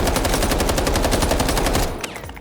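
A QBZ rifle in the Delta Force video game fires a rapid full-auto burst of evenly spaced, loud cracks for about two seconds before the shooting stops and a short echo fades.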